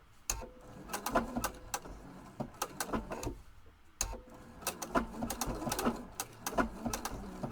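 A domestic sewing machine fitted with an open toe foot stitches a tight turn, running in short bursts with quick rhythmic needle clatter and brief pauses between runs, close and clear with no talk.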